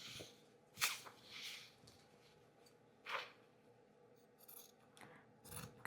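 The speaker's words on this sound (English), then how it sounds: "I'm cutting along until I get to the other" Scissors snip through dress shirt fabric along a sleeve, a few quiet separate cuts with soft rustling of cloth between them, close and faint.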